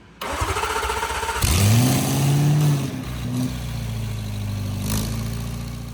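A 4.0T engine swapped into an Audi B9 S4 cranks briefly and fires, rising to a loud rev before settling into a steady, rumbling idle close by.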